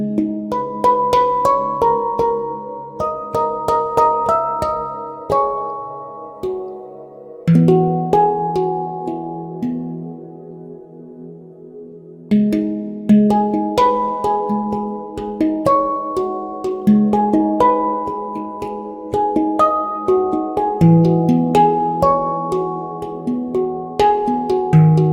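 Fracture Sounds Zen Meditations virtual instrument plays a soft, sustained melodic passage of ringing tones and gentle chords, loud and close with no voices, pausing briefly midway before resuming.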